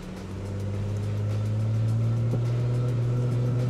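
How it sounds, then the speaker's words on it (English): An Audi B9 S4 engine climbs to launch RPM and holds there, a steady loud drone that swells in the first second and then stays at a sustained high rev. "give it gas to bring it up to your launch RPM"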